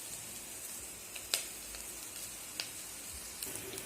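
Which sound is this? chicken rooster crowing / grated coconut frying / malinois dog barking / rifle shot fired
grated coconut frying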